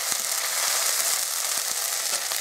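Dried red chillies and green chillies fry in hot oil in a pan, making a continuous, close sizzle with faint crackle that stays even throughout, with no voices.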